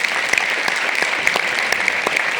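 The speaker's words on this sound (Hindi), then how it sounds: "उनके लिए चाहूंगी जोरदार जबरदस्त तालियां हो जाए।" Audience at an Indian business event clapping loudly for a family upline, with bright, dense applause and sharp individual claps standing out close by throughout.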